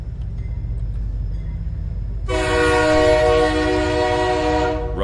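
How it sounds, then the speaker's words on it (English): A loud, sustained train horn blares suddenly over a low rumble of rolling rail noise, holding steady for a few seconds before cutting off. "this time due to hearing a very loud train horn"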